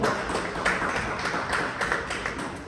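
An audience at a Lean Startup Day event in Rome applauds as speakers join the stage, a continuous spread of moderate clapping from a crowd, fairly near and steady throughout.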